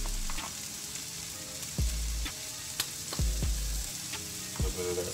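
Beyond Beef plant-based crumbles fry in a pan at home with a steady close sizzle, broken by a few brief clanks of the utensil against the pan.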